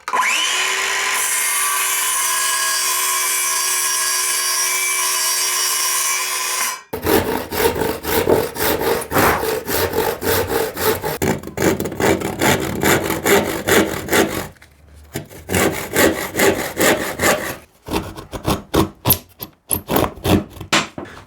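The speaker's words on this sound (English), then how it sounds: "So I'm just going to notch out these sections now." Hand saw notching sections out of an oak veneered board for a custom computer desk, with steady rhythmic rasping strokes up close, pausing briefly twice before quicker, choppier cuts at the end.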